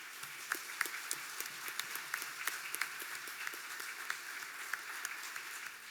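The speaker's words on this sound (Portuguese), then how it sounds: "E uma salva de palmas para Jesus." A church congregation applauding together in a steady wash of clapping with sharper individual claps standing out, moderately quiet and slightly distant, no talk over it.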